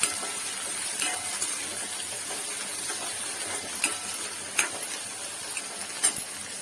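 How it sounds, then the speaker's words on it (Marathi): Tomato frying in oil in a pan, a soft continuous sizzle with a few light clicks of the spoon, quiet and close, no voices. "टॅमॅटो टाकून घेऊया तो पण छान फ्राय करून घेऊया"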